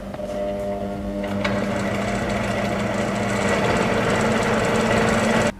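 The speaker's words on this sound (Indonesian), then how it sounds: "Nyalakan mesin jigsaw dengan menekan tombol on." Electric jigsaw motor starts and runs continuously at a steady, buzzing pitch, loud and close, then cuts off abruptly at the end with no talk over it.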